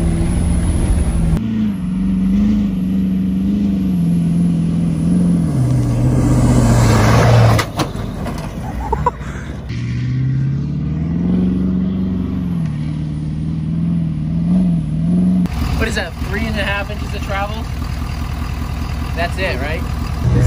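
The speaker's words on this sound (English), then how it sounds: "We're going to start off with this jump out here in the field." A Ford F350 pickup driving off-road across a field toward a jump: a loud engine drones and climbs in pitch, drops back, then revs again, under constant loud talking from people inside.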